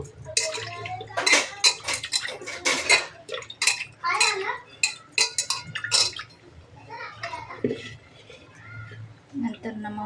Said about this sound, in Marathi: मॅशरच्या साह्याने दाबून घ्यायची